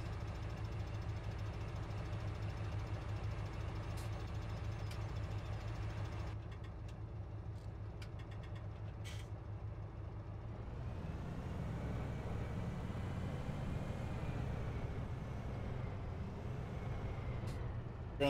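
A big Claas tractor idles in Farming Simulator 17, a low steady engine drone that shifts to a heavier, rougher rumble partway through, with a few faint clicks and no talk.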